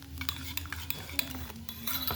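Food is stirred quickly in a pan, with rapid metallic scrapes and clinks of a utensil against the pan repeating close by over a low steady hum and a faint sizzle, with no talking.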